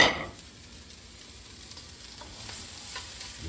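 Shredded green cabbage sizzles softly in a pan while being stir-fried for pancit, a steady low crackle with no talking.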